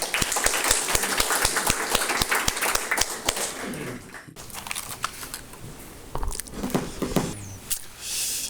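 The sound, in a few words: audience applause welcoming a speaker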